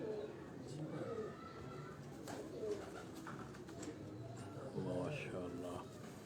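Soft pigeon coos murmur in the background while people talk nearby, the low throaty calls repeating faintly throughout.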